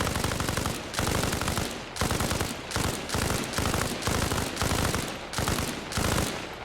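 A SAW machine gun firing in the Arma Reforger video game, loud close bursts of rapid automatic fire broken by short pauses, roughly nine bursts in a steady stop-start rhythm.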